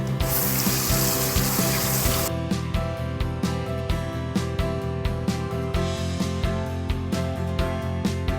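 Boiled pork belly gets rinsed under running tap water in a kitchen, a steady loud water rush at the start giving way to continued splashing with repeated clanks and knocks of the meat and bowl.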